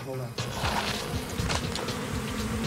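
A dense swarm of dangerous bees, calmed with smoke, drones loudly and steadily up close, a continuous layered buzz with shifting pitches.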